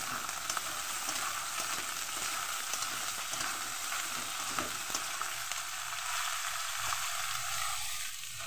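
Eggplant with slit green chillies hits hot oil in a pan and fries with a loud, steady, crackling sizzle throughout.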